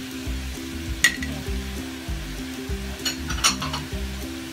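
A spoon stirs homemade pizza sauce seasoned with garlic powder and chili flakes, heard up close as soft scraping and a few light clinks against the bowl over a steady background of music.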